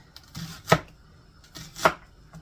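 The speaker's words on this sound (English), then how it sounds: "So I'm going to chop this big old onion." A knife chopping a big onion on a cutting board, two distinct crisp thunks about a second apart, each with a soft slicing sound before it, close and clear with no speech.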